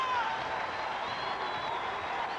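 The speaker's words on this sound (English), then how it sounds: "Crowd coming to life" A college basketball arena crowd at a 1983 Creighton versus Tulsa game gives a sustained roar of cheering and applause, with a commentator's voice over it.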